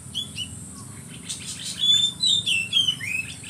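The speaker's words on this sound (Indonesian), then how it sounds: "Lihat burung kacir." An oriental magpie-robin sings outdoors near a guava tree, giving a string of bright, high, whistled chirps that grow more frequent and louder in the second half over a low background murmur.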